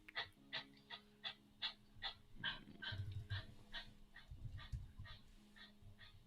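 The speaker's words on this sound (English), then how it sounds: "Oh, sorry. That's my dog." A hot pet dog pants rapidly in a steady series of short breathy huffs close by, with some low rustling and shuffling as it moves around.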